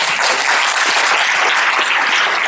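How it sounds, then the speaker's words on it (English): Loud, dense applause from a conference audience at a Huntington's disease community event, a steady wash of clapping with no talk over it. "I feel like I just got a round of applause from Nancy Wexler."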